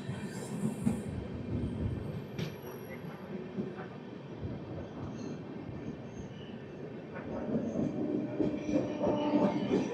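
AP Express train 20805 at Samarlakota Junction railway station: a low continuous rolling rumble of railcars with faint wheel squeals and clicks, growing louder toward the end, heard from nearby with no talking.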